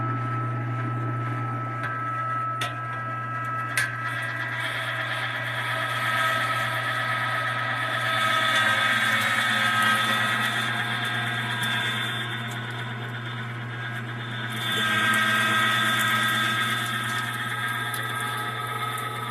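An LEM Big Bite #8 electric meat grinder of 0.5 HP grinds brisket into burger meat, giving a steady, continuous motor hum with a low drone that swells slightly in places, close and alone without talk.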